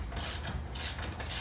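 A ratchet snugs down the bolts on a swivel seat being installed in a Chevy Express camper van, giving a steady, close mechanical rasp with no talking.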